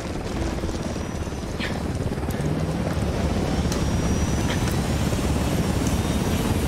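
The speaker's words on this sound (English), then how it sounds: "Coming for the copter." Helicopter in the video game Ghost Recon Wildlands, a steady loud rotor and engine drone holding evenly throughout with no talk over it.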